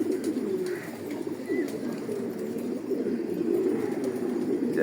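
Pigeons coo in the morning, soft low repeated rolling calls close by, continuing steadily with a few faint chirps in the background.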